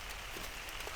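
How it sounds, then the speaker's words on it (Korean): Rain falling on a farm, a dense, steady patter that fills the whole short moment without any voices. "다독이는 빗소리에 기운을 차렸나 봅니다."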